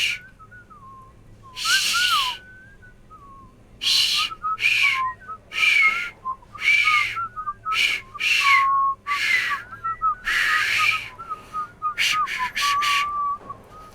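Someone whistles a series of short, breathy tones in an uneven rhythm, each note paired with a rushing breath, close and fairly quiet.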